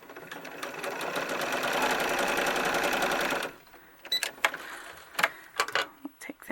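A sewing machine stitching a doll gown runs in a steady, fast mechanical rattle for about three and a half seconds, then stops, leaving a few faint clicks and handling noises.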